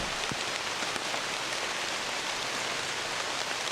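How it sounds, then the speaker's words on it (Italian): Heavy rain pours down in the Amazon rainforest, a dense, continuous hiss of drops striking leaves and ground, steady and enveloping with no voices. "La pioggia è ossigeno per la foresta e qui, quando piove, lo fa seriamente."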